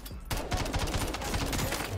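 Rapid automatic fire from an MCW rifle in a shooter video game, a dense unbroken stream of sharp cracks starting after a brief quiet moment and running loud and steady to the end.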